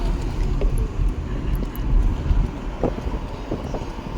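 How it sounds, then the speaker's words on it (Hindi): Strong wind buffets the microphone outdoors on the road to Jim Corbett, a continuous low rumbling roar with gusty swells and no voices. "मस्त हवा चल रही है, एकदम शानदार हवाएं।"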